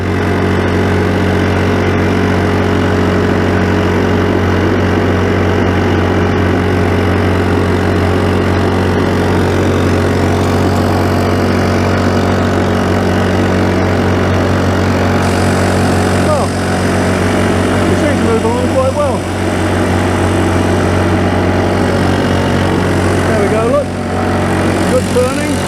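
A small outboard engine on an 8 ft plywood boat idles steadily once the choke is off, a loud, continuous mechanical drone holding throughout with slight shifts near the end.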